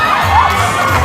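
Wedding guests cheering and whooping for the emcee at a daytime Thai wedding reception, a loud, close burst of excited shouting voices with no distinct clapping.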